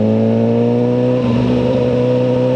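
A Suzuki GSX-R1000R motorcycle engine holds a loud, steady high-revving drone at about 25 mph, with a slight shift in pitch midway through.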